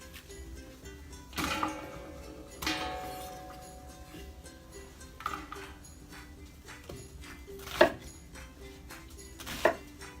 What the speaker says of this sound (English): I have 1 large onion. Not like that little piece there, so I'll just cut that off.